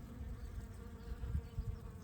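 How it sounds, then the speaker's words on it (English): Bumblebees and honeybees buzz among allium flowers in a garden, a low, steady, droning hum close by, with slight swells as insects move nearer. "Again, the bees are going mad. Usually it's bumblebees."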